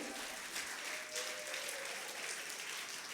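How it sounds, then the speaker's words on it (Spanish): Applause from a church congregation, a steady wash of many hands clapping at moderate, even volume, with a faint tonal hum underneath and no speech. "Fuerte el aplauso al Señor."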